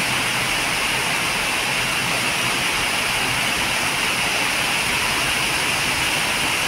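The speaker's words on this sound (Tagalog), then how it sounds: "Ang lakas ng ulan mga langga." Dense, steady hiss of heavy August afternoon rain pouring without pause, loud and close, with no voices.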